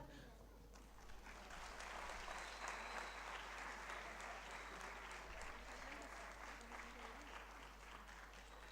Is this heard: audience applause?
yes